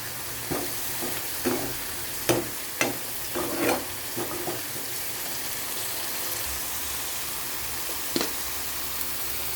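Tomato gravy with curry leaves fries in a pan, a constant soft sizzle broken by a series of scraping stirs, close and moderately quiet.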